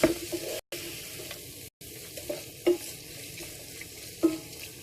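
Mixed vegetables for a curry being stirred as they fry in a pan, close scraping and shuffling strokes over a low sizzle, with a couple of abrupt silent gaps.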